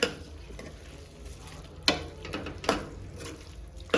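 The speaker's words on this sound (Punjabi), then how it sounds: "ਹੁਣ ਆਪਾਂ ਇਸ ਦੇ ਵਿੱਚ ਪਾ ਦੇਣੇ ਆ ਇਹ ਆਲੂ ਮਿਕਸ ਕਰ ਦੇਣਾ ਚੰਗੀ ਤਰ੍ਹਾਂ" Boiled potatoes being stirred into a curry in a pan: a soft continuous sizzle with spoon-on-pan knocks and scrapes at irregular moments, close and clear, without talk.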